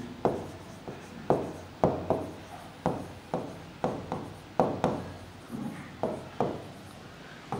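Handwriting, likely chalk or marker on a board, in a physics lesson: a rhythmic series of short taps and scratching strokes, roughly one or two per second, close and fairly clear.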